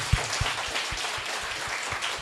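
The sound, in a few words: audience clapping on request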